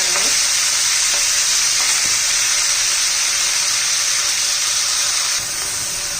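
Fresh spinach hits hot oil with half a spoon of toasted cumin for a palak chutney, producing a loud, steady close-up sizzle with a few faint stirring clicks and no voices.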